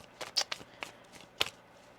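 Quiet, close shuffling of a tarot deck, a handful of brief papery riffles and flicks spread unevenly across a couple of seconds with silence between them.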